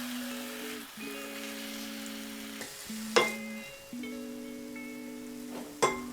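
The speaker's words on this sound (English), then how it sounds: "drizzle of oil and then add your meat. We just want to seal the surface to lock in the flavour." Thinly sliced pork sears in oil for nikujaga, producing a soft, steady sizzle with a couple of sharp clatters, while a sustained tonal hum runs underneath and stops and restarts several times.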